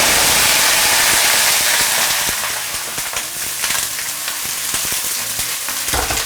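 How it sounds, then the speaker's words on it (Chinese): A fish head fries in lard and mixed oil, starting with a loud, dense sizzle that eases into steady crackling and popping close by, with no talk. "好，我们下入鱼头，"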